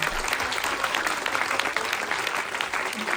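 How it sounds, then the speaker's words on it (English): Sustained audience applause at a speakers' forum talk, a dense steady wash of many hands clapping throughout, with faint voices mixed into the crowd noise. "Can you give them and yourselves a very big round of applause?"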